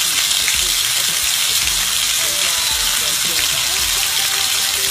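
Kidney pieces for a Ghanaian kidney kebab cook in a pan with a loud, steady hiss and sizzle, an unbroken frying wash running throughout.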